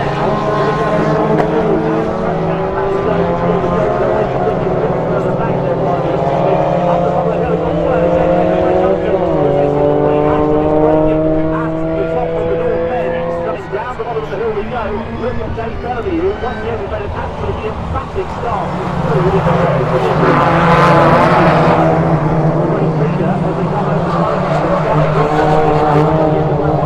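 Rallycross cars in the BMW Mini category race side by side down a slope at Lydden Hill, their loud engines roaring and shifting pitch throughout. A commentator talks over the engines.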